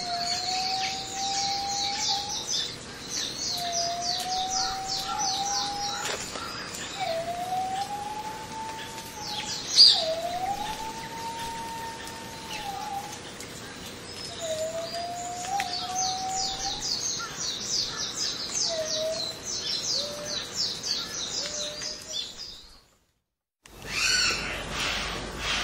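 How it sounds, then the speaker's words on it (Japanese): A whistling green pigeon gives a series of rising, whistled calls repeated several times in the Amami Oshima forest, over a backdrop of high chattering bird chirps, fairly clear and mid-distance, ending in a brief silence. "何やら不思議な鳴き声が聞こえてきました。 オリーブ色の羽を持つズアカアオバトです。"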